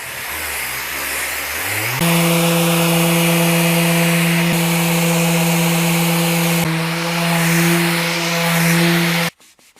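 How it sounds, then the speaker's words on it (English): A power sander fitted with 120 grit sandpaper works the cured resin underside of a large river table, giving a loud, steady, humming drone that runs almost without a break before cutting off abruptly at the end. "so let's start sanding. 120 grit sandpaper."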